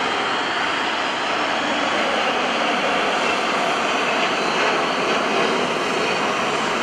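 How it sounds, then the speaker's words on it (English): A KC-135R Stratotanker jet makes a maximum-performance takeoff at an airshow, giving a loud, sustained broadband roar that stays steady throughout. "Watch the max performance takeoff of the 135 now."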